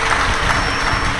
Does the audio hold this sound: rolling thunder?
no